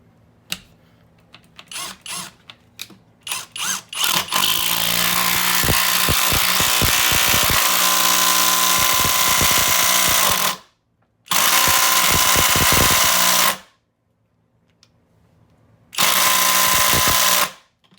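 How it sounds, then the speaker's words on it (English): Skil PWRCore 12V brushless impact driver hammering a 4-inch Torx 25 screw into hard maple: a few short starting taps, then a loud sustained rattling burst, followed by two more long bursts separated by silence. "we are going to go to the 4-inch with Torx 25 again, and hopefully I can get this started"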